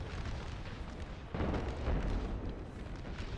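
Napoleon cannons of the American Civil War era booming in a Total War battle, a dense rumbling barrage of artillery fire with a heavier burst midway, continuous and moderately loud with no talk.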